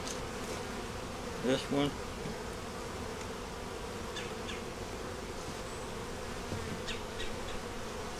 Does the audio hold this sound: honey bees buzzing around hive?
yes